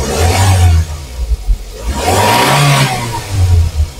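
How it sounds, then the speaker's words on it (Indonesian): A 2018 Daihatsu Granmax pickup with a 1.5 engine in normal running condition revs up to about 3000-4000 RPM, a loud, close engine roar that rises and falls in repeated swells with no talking. "Dan sekarang kita coba naikkan RPM."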